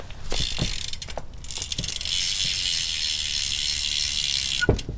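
A BMX rear wheel with a double-wall Nitrous rim laced to a freewheel hub, its ratchet clicking in fast, steady runs for several seconds, close and fairly loud, with a few separate knocks before and after.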